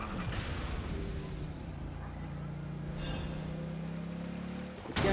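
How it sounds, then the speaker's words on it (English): A vehicle engine in Genshin Impact drones steadily and loudly, with a low sustained rumble and tonal hum that rises slightly in pitch partway through before cutting off abruptly at the end. "Rev the engines!"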